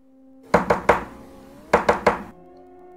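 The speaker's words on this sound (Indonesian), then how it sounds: "Suara daun pintu diketuk dengan keras." Loud knocking on a wooden door in two bursts of three heavy, evenly spaced thuds, close by and with a short pause between the sets.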